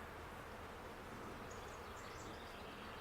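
Honey bees hum steadily around an open Flow Hive during a hive inspection, a continuous, dense buzzing swarm sound close to the microphone with no talking.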